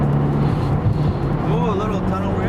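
Mitsubishi Evo accelerating inside a tunnel, a steady low engine drone with rising harmonics as revs climb, heard from inside the car with a reverberant roar.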